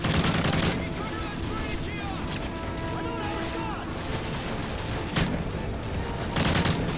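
Dense automatic gunfire in Call of Duty: Modern Warfare 3, loud rapid bursts and continuous shooting mixed with impacts and battlefield clamor, with someone talking over it at times.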